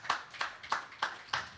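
Applause for a youth group arriving at a Sunday celebration service: five crisp, evenly spaced claps about a third of a second apart, close and distinct with quiet gaps between them.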